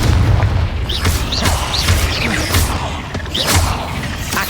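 Repeated booming blasts of a Confringo spell in a wizarding video game set in a cave, several loud thumps in quick succession with whooshing bursts between them.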